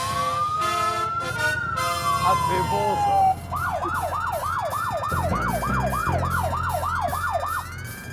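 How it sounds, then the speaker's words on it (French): A siren rigged on a Harley-Davidson motorcycle wails loud and close, first a long rising-falling sweep, then a rapid repeating yelp cycle over a low engine rumble, with a brief voice near the start. "c'est pas tout à fait légal de faire péter la sirène en plein bois de Vincennes"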